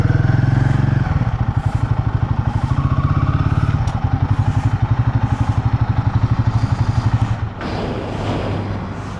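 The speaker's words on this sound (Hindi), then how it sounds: "बाइक मैंने यहाँ पार्किंग में पार्क कर दी है।" A motorcycle engine runs close and loud in a steady, rapid idling putter near a temple parking area, then cuts off toward the end, leaving faint ambient noise.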